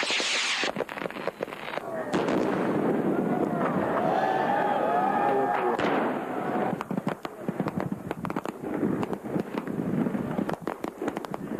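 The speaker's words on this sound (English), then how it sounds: "Fireworks, firebombs, and all things that go boom in the night." Fireworks crack and boom through a night show, with repeated sharp bursts and whistling rises over a steady crowd hubbub, with people talking throughout.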